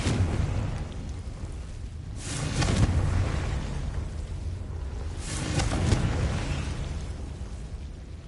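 Confringo, the fire-blasting explosion spell from the game Hogwarts Legacy, booms twice with heavy, rumbling bursts about three seconds apart, loud over a steady low game rumble.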